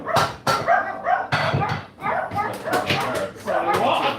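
Dogs bark in repeated sharp yaps and yips, fairly close, mixed with people talking.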